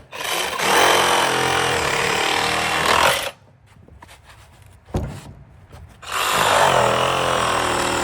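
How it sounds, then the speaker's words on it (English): A Sawzall reciprocating saw cutting into the casing of a leaking electric water heater, two loud, buzzing bursts of a few seconds each, separated by a pause with clanks and handling noise. "I've been stripping away at this with my Sawzall. Just cutting away."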